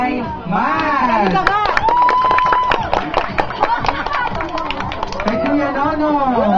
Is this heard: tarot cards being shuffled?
no